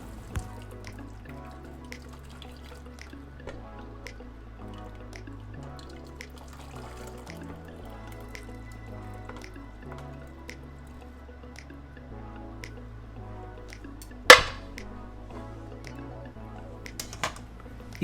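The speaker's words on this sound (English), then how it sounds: "Slowly pour the dashi to the can," Dashi broth poured slowly and gently through a strainer into a can, with soft, quiet trickling and dripping and a faint steady hum beneath, plus one sharper splash or clink near the end.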